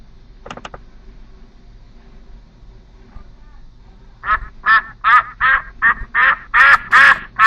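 Ducks quack loudly and close by in a rapid run of repeated calls, following a few faint clicks in near silence.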